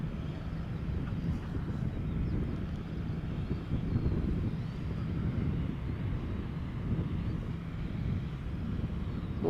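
A KLM passenger jet arriving at Amsterdam Schiphol Airport, heard as a steady, broad, low rumble of jet engines with some wind buffeting, continuous and fairly distant throughout.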